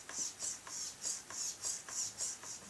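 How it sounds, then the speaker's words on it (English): The rudder servo of a Kadet LT-40 model airplane gives about eight faint, short, buzzy bursts in an even back-and-forth rhythm, quiet and close. "we should be able to hear this thing move the rudder."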